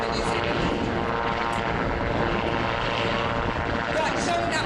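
A New Zealand Navy helicopter flies a display at an airshow, its engine and rotor making a loud, steady, broadband roar throughout, close and continuous with no pauses.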